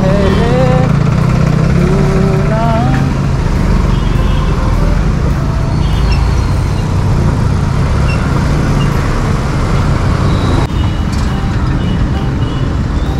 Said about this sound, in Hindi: अरे यार इतना बड़ा ट्रैफिक